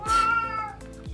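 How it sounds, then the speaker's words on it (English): A pet cat meows indoors, one loud, close, drawn-out cry, then a quieter second meow near the end. "Sorry if you can hear my cat."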